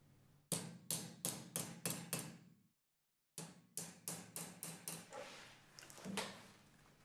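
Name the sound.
hammer knocking drive-in nuts into the body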